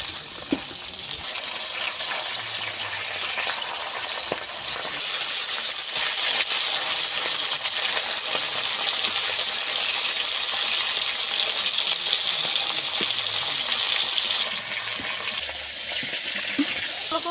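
Pomfret fish fry in a pan with a loud, continuous, hissing sizzle that swells midway and holds steady, with a few faint clicks near the start.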